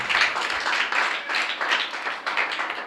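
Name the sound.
congregation clapping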